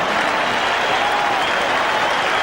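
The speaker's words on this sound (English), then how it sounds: "Generous applause." Large stadium crowd at an AFL football match between Melbourne and Collingwood, steady dense applause filling the whole stretch, loud and continuous with a broad roar beneath it, no speech.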